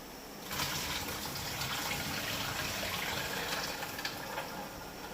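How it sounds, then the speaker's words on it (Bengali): Cut snake gourd pieces are rinsed under a running tap, and a steady, close gush of water starts after a brief quiet moment and continues evenly to the end. "ভালো করে জল দিয়ে চিচিঙ্গেটা খুব ভালো করে ধুয়ে নিতে হবে।"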